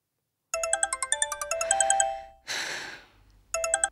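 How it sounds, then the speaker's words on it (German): A telephone ringtone rings in a German detective radio play, a bright electronic melody of rapid repeating tones that pauses briefly for a soft breathy whoosh, then starts again, clear and alone. "Da kann der Roman noch lange anrufen"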